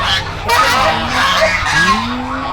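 Guinea fowl on a farm give loud, harsh, repeated honking calls close by, with overlapping cries that rise and fall.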